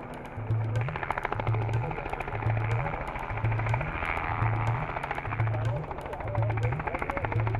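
Steady helicopter rotor chop thumping rhythmically in the background, with a continuous engine drone, fairly loud throughout, as the helicopter herds nilgai (blue bull) into a boma enclosure during a mass capture.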